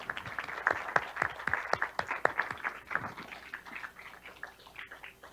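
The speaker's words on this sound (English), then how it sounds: "Let's give a round of applause for the panel" Applause for a panel at a water quality committee meeting, from a small audience, with distinct individual claps in a quick irregular rhythm that gradually thin out and fade.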